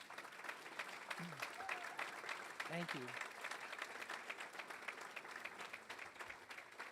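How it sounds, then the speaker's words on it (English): An audience at a university Founders Day celebration gives steady, sustained applause for the standing Roser Scholars, with brief voices speaking over the clapping. "So would the Roser Scholars stand up so we can give you a round of applause?"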